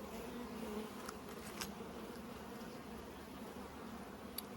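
Honey bees buzzing in a large open hive during an inspection of brood comb, a steady low drone that stays even and fairly faint throughout, with a few brief light clicks and no talking.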